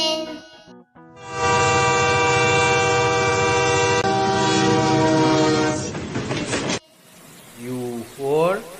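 A train sounds a long, loud horn blast of about five seconds over rumbling rail noise, which then gives way to rolling clickety-clack, with a voice speaking at the start and briefly at the end.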